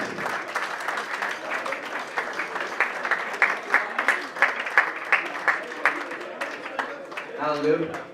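A crowd at a boxing event applauds the winner of the second bout, sustained dense clapping with scattered louder claps lasting throughout, a few voices rising near the end.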